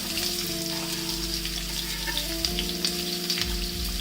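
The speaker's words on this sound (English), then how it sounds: "Once the oil is hot, add in about 2 medium-sized sliced onions" Sliced onions fry in hot oil in a pan, giving a steady, close sizzle that runs without a break, with faint stirring underneath and no voices.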